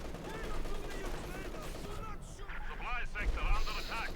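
Artillery shells boom and crack across a Company of Heroes 2 battlefield in a dense, continuous barrage of mid-distance impacts. A commentator talks over them throughout.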